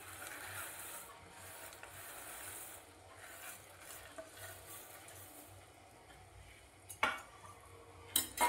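Fried boondi stirred into sugar syrup in a pan for motichoor laddu, a soft continuous wet scraping and swishing with a few sharper clinks near the end.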